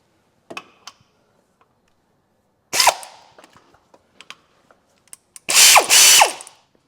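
A ratchet undoes 15mm bolts on an engine bracket at the back of the block of a Chevrolet Cruze 1.4, with a short click burst followed by two longer, louder runs of fast ratcheting clicks near the mic.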